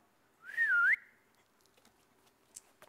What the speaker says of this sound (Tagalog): Ah, isang mababa at isang mataas na pito.